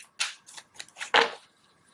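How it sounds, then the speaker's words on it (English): A tarot deck is shuffled at close range, giving a few quick, crisp riffling bursts with brief gaps between them and a louder final snap. "Couple more shuffles."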